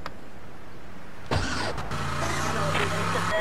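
Car engine in the video game GTA Vice City starting up and then idling steadily, a low hum that follows a sudden onset partway through, with a faint whir near the start.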